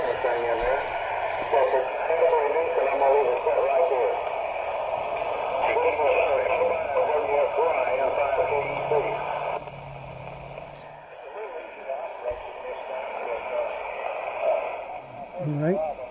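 Noisy AM radio reception with a broadcast voice warbling through static and fading, the signal dropping in level partway through.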